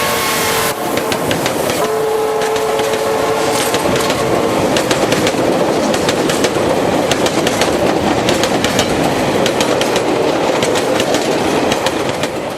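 Steam locomotive 3023 hauling a coal train between Fuli and the power station in China, a loud continuous rumble with rapid exhaust beats and rhythmic wheel clatter close by, a brief whistle-like tone near the start.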